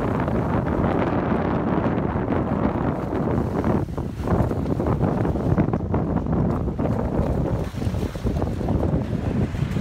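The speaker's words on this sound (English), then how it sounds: "It's kind of windy." Gusty wind roars loudly into the microphone beside a river, a constant broadband rush with brief dips and surges, no voices.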